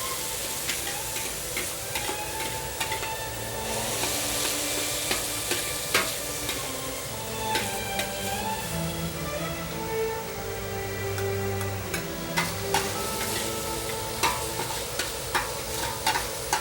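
Pork stir-fried in a wok in a Chinese restaurant kitchen, with a continuous loud sizzle and frying hiss broken by repeated scraping and clanking strokes of the utensil against the metal pan.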